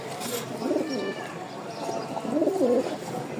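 Rajshahi Giribaj pigeon cooing in two rolling, throaty phrases, close by over a steady background hiss, with no talking.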